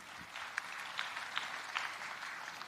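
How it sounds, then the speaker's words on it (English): Audience applause at a tech summit, a faint, steady patter of many hands clapping at a distance, with no talk. "A round of applause."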